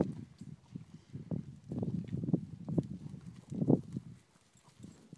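A horse at a farm feeding shuffles and steps near people, with soft irregular hoof thuds and snorting movement, close by and fairly quiet.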